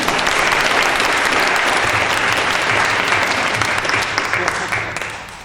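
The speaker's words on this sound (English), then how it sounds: "give them a round of applause" A crowd at a Focus the Nation global warming solutions event gives a loud, full round of applause for the Empower Poly group. Clapping stays thick and steady throughout, thinning a little near the end.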